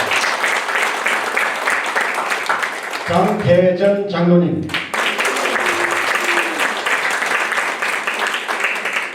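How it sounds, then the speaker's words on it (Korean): Loud applause at an awards ceremony fills the hall, cut in the middle by a man announcing an honoree's name over the system, then the clapping swells again and carries on steadily to the end. "제가 고명을 할 때마다 여러분께서는 가장 뜨거운 박수로 환영해 주시면 감사하겠습니다"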